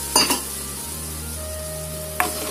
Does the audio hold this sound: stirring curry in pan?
yes